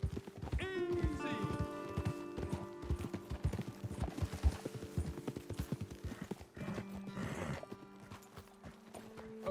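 Horses clip-clop along at a trot in Red Dead Redemption 2, hooves beating a steady rhythm up close, with a neigh near the start and game music underneath; no one speaks.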